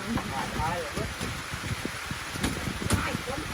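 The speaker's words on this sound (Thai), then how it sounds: "ฝนตก" Steady rain falls outdoors with a constant, even patter and hiss, while people talk nearby over it.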